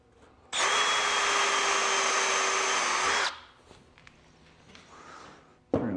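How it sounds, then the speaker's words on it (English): A power drill drives screws into a wooden runner of a crosscut sled for a Shopsmith, one loud steady whir of about three seconds, then quiet shop handling noises and a brief knock at the end. "tap it and drill them in"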